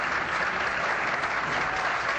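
Spectators at a 1985 Seattle bowling tournament give sustained, steady applause, a dense wash of clapping from a crowd heard throughout without a break.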